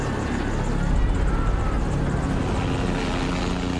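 A law-enforcement helicopter drones overhead during clashes, a continuous broad rotor-and-engine rumble holding at a steady, fairly loud level with no talk over it.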